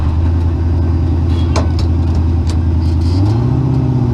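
An off-road car's engine idles and hums steadily, then the pitch rises as the driver shifts into a new reverse gear, the drone continuous and close throughout.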